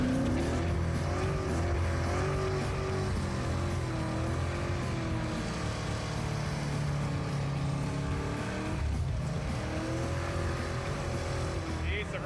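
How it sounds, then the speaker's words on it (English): A 500-horsepower 1979 Chevy Malibu sleeper does a burnout on small 175 tires, its engine droning and revving loudly with tire squeal, sustained over twelve seconds with a brief dip near the end. "That burnout's real good."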